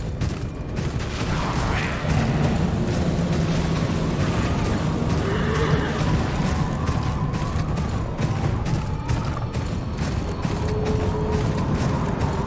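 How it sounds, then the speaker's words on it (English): Horses galloping in the Game of Thrones Kingsroad video game, a steady rapid clatter of hooves over a dense rumbling backdrop, with a possible faint whinny. "On your horses, now."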